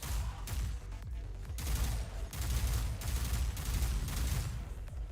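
Rapid SMG bursts ring out in a video game shooter, dense overlapping volleys of fire that run almost continuously with brief gaps between loud, close bursts.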